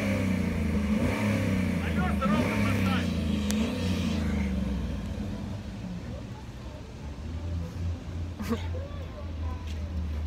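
A Cadillac Escalade pulls away in economy mode with a steady low engine drone that eases off as it moves, while someone talks over it.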